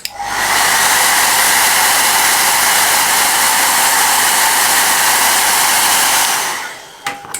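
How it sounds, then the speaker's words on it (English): A hair dryer blows over a freshly painted Renegade Ogryn miniature, a loud, steady close-up whoosh that runs unbroken for about six seconds before cutting off, followed by a few small clicks. "let's quickly just put a bit of a hairdryer over the top of this before I go on to the red"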